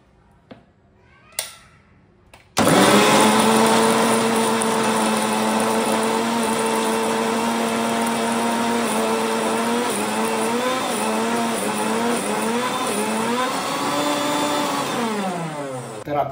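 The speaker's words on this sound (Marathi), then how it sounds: "एक राऊंड आपण मिक्सरचा करून घेतला आहे बघा, बारीक झालेला आहे" A mixer grinder grinds onion and coconut for a Malvani-style prawn curry. After a quiet start it kicks in with a loud, steady, close motor whine for about fourteen seconds, and the pitch wavers toward the end.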